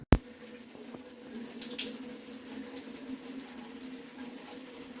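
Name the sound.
hot shower water running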